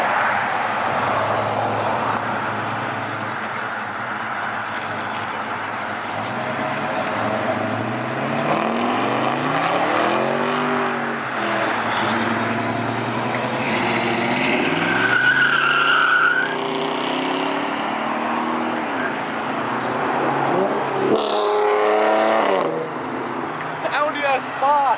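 An Audi S5 accelerates past at a car show, its engine revving in rising and falling sweeps with a tire squeal, while people talk throughout.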